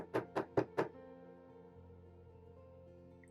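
A Sonia Kashuk blush brush is tapped four times in quick, even succession to knock off excess blush, giving crisp, close knocks followed by a quiet lingering ring.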